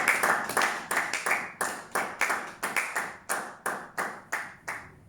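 A church congregation claps in steady rhythm during Sunday worship, around fifteen sharp, even hand claps spaced evenly apart, bright and close.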